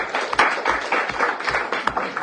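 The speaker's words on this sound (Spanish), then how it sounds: "Un aplauso para ella, por favor." Audience applause at a literary salon event, a steady wash of many hands clapping for a couple of seconds with rhythmic peaks, moderately loud and close, no talking.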